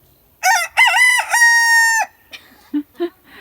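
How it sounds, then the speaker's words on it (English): A rooster crows once, loud and near, with a long drawn-out final note, followed by a few soft clucks. "That's our rooster."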